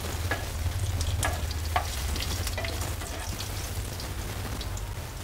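Cumin seeds and curry leaves fry in hot oil for a dahi tadka, giving a dense, even crackling sizzle with a few sharper pops, close and continuous.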